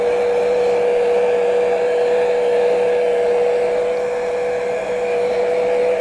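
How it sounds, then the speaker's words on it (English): A hair dryer blowing steadily at close range, a constant whirring hum with a high airy hiss, running without pause. "I keep forgetting that I can dry with a hair dryer"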